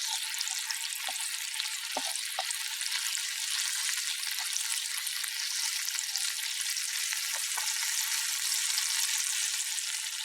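Grated garlic and dried dill fry in a pan with a continuous bright sizzle, interrupted by a few brief scrapes of stirring; steady and close, with no talk.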